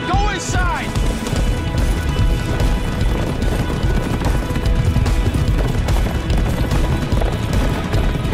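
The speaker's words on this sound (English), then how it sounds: "This might be some of the best horse racing footage I've ever seen in, TV or movies for that matter." Racehorses gallop in televised horse racing footage, with rapid pounding hoofbeats under crowd noise and a busy, loud soundtrack, plus a brief whinny-like cry near the start.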